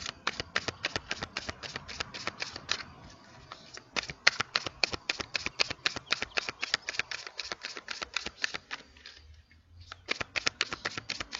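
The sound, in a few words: tarot cards being shuffled and drawn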